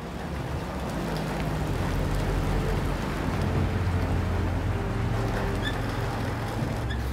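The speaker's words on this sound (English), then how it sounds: "rain on the bonnet of a 1985 Land Cruiser" Steady, dense rain patters and hisses on the bonnet of a 1985 Toyota Land Cruiser in Namibia, a close, continuous wash of drops with no voices.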